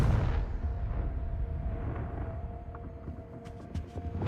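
A Confringo fire spell explodes in the video game Hogwarts Legacy with a heavy, booming blast that rolls into a long, decaying low rumble, followed by a few faint crackling pops.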